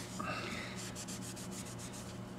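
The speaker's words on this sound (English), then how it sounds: "just kind of rubbing it down a bit with more leather cleaner" A cloth rubs leather cleaner over the leather shift knob of a 1997 BMW E36 M3 sedan, giving a faint, close, rhythmic scrubbing in quick repeated strokes over low hum.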